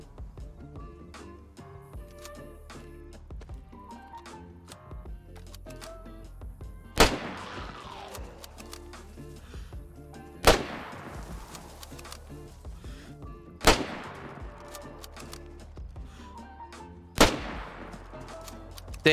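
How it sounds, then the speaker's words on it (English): Four loud SSG-82 sniper rifle shots from the game DayZ, spaced a few seconds apart, each a sharp crack with a decaying tail over steady game ambience and faint background sounds. "They have added the SSG-82 sniper rifle."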